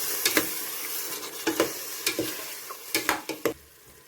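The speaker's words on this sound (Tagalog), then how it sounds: "Haluin lang natin mabuti." Sardines and mung beans being stirred in a cooking pot, a series of irregular scraping strokes of a spoon against the pot over a faint background sizzle, close and clear with no talking.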